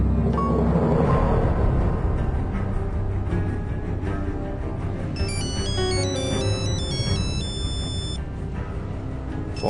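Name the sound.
phone ringing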